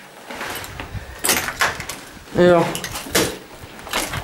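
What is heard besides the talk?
trying to open a stuck door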